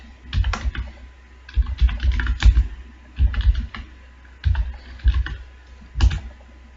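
C code is typed on a computer keyboard in close, loud bursts of rapid key clicks, separated by short pauses.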